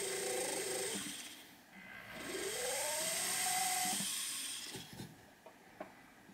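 A bud burr on a rotary jewelry tool drills a flush stone seat in metal, its motor humming steadily and rising in pitch as it spins up, then dropping away to a few faint taps.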